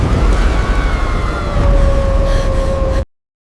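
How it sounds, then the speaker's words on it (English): Deafening prehistoric thunderstorm thunder, a sustained heavy rumble with continuous broadband roar lasting about three seconds before cutting off abruptly, loud and close, with a faint tonal whine running over it. "Deafening thunder makes the ground vibrate."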